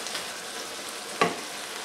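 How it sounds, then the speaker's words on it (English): Ground chicken with soy sauce sizzles steadily in a hot pan for Asian lettuce wraps, with one brief louder scrape of a utensil stirring partway through, close and without talk. "So we put about 2 tablespoons of soy sauce in. Stir that around."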